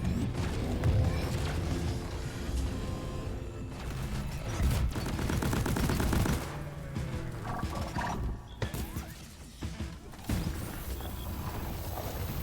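Rapid gunfire in a video game, loud and dense, with bursts of shots layered over roaring creature noise and heavy in-game effects, dropping off briefly near the end before firing resumes.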